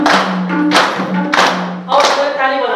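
A group of women clap together during madal drum training in Singa, several sharp, loud claps in a rough rhythm, with voices and a sustained tone underneath.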